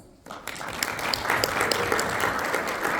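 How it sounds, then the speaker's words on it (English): After a brief quiet moment, an audience at a business conference on education and cross-border trade breaks into sustained applause for the panelists, a dense, steady clapping that fills the room. "Please give them a round of applause"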